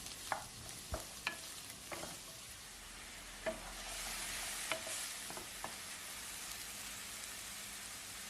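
Soft frying of chopped button mushrooms in a pan with a faint continuous sizzle, broken by a series of sharp clicks and scrapes of a utensil stirring, with no voices.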